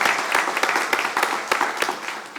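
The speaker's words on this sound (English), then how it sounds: "I think we deserve one more round of applause" Audience applause at a community kick-off presentation for a city planning initiative in Kalamazoo, a dense, steady wash of many hands clapping that carries on for a couple of seconds with a few louder claps popping out of the mass.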